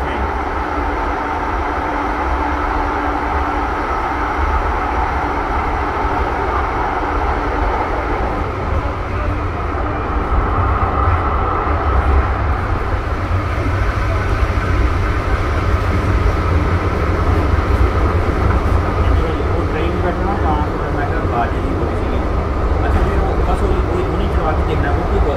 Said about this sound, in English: First train of the day, you too.